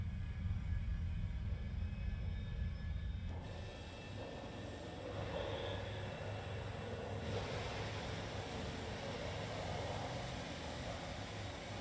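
Aircraft engine at full throttle in the War Thunder video game: a steady, dense roar that holds at a constant level for the whole stretch, with a slight shift in tone partway through.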